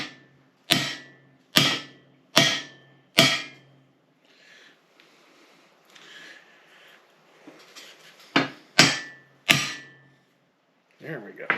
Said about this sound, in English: I've got a little block of wood here and a hammer. Let's just try to drive that in.